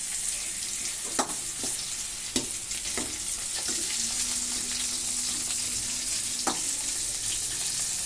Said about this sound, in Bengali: পাশে কড়াইতে আমি কতগুলো পটল ভেজে নেব